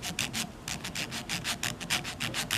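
Scratch awl being hand-sanded with 60 grit sandpaper in quick, rhythmic back-and-forth rasping strokes, close and steady, with no talking.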